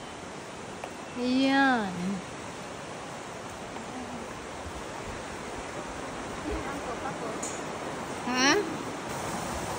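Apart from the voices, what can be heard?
flowing river in Nasu Shiobara, Japan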